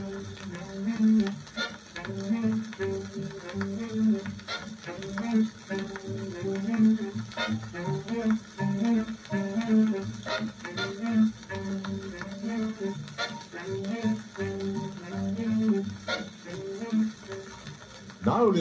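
A big-band swing tune as it would sound on an old 78 record, a faint, thin band with steady surface crackle and hiss over it throughout.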